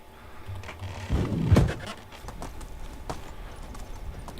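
In the Medieval Dynasty video game, a donkey's hooves clop a few times close by, with a short burst of steps followed by quieter ambient sound.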